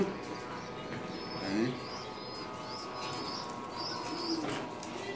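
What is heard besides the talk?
domestic pigeons cooing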